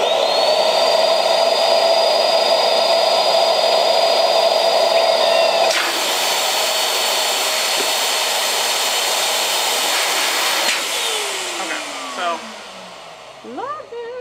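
Balloons for Halloween decorations being inflated with a loud, steady whirring rush of air that runs for about ten seconds, then eases off into squeaky rubber stretching near the end.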